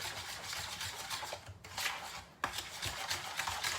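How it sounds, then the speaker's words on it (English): A whisk scraping steadily through yogurt cake batter with sugar mixed in, making quick close rhythmic swishing and rubbing strokes against the bowl, with two brief pauses between runs of strokes. "So then you're going to whisk those things together"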